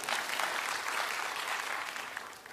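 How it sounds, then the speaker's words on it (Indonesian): Congregation applauding during a church sermon, a dense, steady wash of many hands clapping close by that holds strong throughout before easing slightly at the end. "Tepuk tangan."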